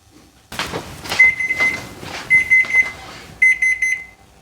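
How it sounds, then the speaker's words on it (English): A kitchen timer goes off for pots heating in a kitchen while bread and cookies are prepared for the freezer. It sounds in loud, repeated beeping bursts over clattering handling noises. "that is our timer for the pots"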